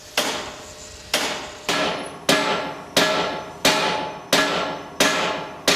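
Sharp metal hammer strikes ring out on a steel-frame building site, about nine evenly spaced heavy blows roughly every 0.6 seconds, each with a bright clang that rings and decays, loud and close with no talk.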